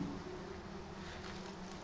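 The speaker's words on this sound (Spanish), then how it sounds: "Hay un montón de abejas, ¿eh?" Dense swarm of bees buzzing inside an abandoned cave house, a steady, continuous drone close by with no pauses and no talking.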